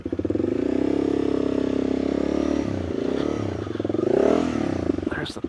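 A dual sport motorcycle engine throbs at steady revs while climbing over rocks, then surges louder with a clattering scrape near the end.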